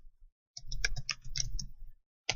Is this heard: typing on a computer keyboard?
yes